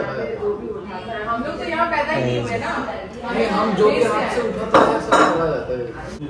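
Plates, pots and cutlery clink and clatter as an aunt serves food at a family get-together, with people talking over the sounds throughout.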